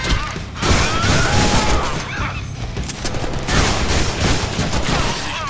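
Dense, continuous gunfire and impacts in the Deadpool video game, loud and sustained for several seconds with bursts and crashes layered together.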